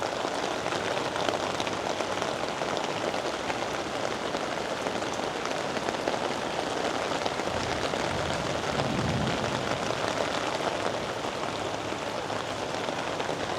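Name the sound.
rain falling on a garden of bonsai trees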